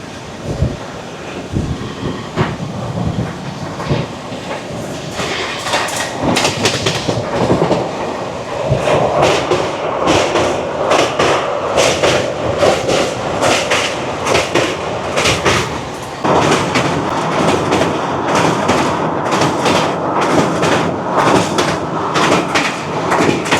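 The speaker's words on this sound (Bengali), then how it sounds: "ট্রেন আমাদের ক্রস করছে বৈতরণী নদী।" A long-distance express train crossing the Baitarani river bridge, with continuous loud rumbling and rapid rhythmic clatter of wheels over the span, plus gusts of wind noise and no talking.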